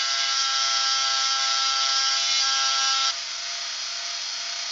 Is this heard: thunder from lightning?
no